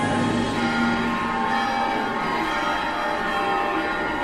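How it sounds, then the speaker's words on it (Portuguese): Carillon bells ring out within a symphony orchestra's performance of a Russian-themed piece, a dense, sustained wash of pealing tones layered over the full ensemble, loud and continuous throughout. "Os sinos, os carrilhões tocando."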